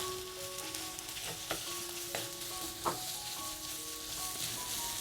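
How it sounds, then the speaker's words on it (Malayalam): Onions sautéing in a pan for a tomato curry, giving a steady close sizzle with a few sharp scrapes and taps of a spoon stirring, and no voices. "അപ്പോൾ സവാളയും ചേർത്തിട്ട് വീണ്ടും നന്നായിട്ടൊന്ന് വഴറ്റി കൊടുക്കണം"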